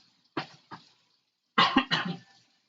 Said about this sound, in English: Excuse me, had to cough for a moment there.